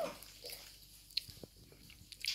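Someone eats octopus bibimbap mixed with soy sauce, making soft, close chewing and squishy bites with a few sharper clicks. The sounds are quiet and come in irregular bursts without speech.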